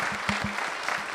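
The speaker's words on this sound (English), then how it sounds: "One round of applause for Ann." Brief clapping from a community meeting audience at the Floyd County Library, a quick scattered patter lasting about a second, fairly faint.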